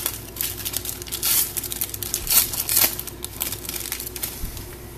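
2019 Prestige football card mega box packs are ripped open, giving close, continuous crinkling and tearing of foil wrappers with sharp crackles throughout.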